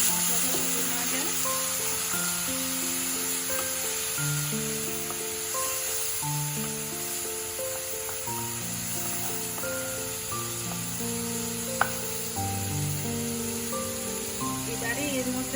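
Green chillies and a spice paste frying in a pan with a little water, giving a loud continuous sizzle and spatter close by, with background music playing throughout.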